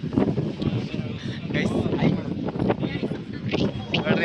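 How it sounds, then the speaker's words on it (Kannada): Cool wind blowing across a hilltop viewpoint above Lepakshi in Andhra Pradesh, heard as steady, rough buffeting throughout, with voices talking over it. "ಒಳ್ಳೆ ತಂಪು ಗಾಳಿ ಬೀಸ್ತಿದೆ"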